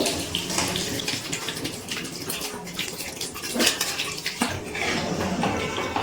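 Water splashes and gurgles into a pan of potatoes coated in spices for a duck egg and cauliflower curry, pouring steadily up close for several seconds with faint clinks of the pan.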